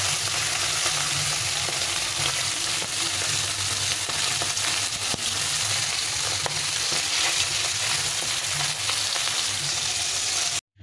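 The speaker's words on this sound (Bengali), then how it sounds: "এই মাছগুলো ভেজে নেব।" Pieces of bata fish fry in hot oil, giving a dense, continuous sizzle that holds steady and close for the whole stretch, with a few faint stirring clinks and no talking.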